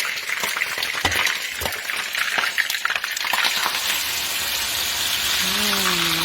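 Ingredients for Malaysian asam pedas Melaka, with onions and belacan, fry and sizzle loudly in a pan, a steady crackling hiss with stirring clatter. A faint voice and a brief tonal sound come in near the end.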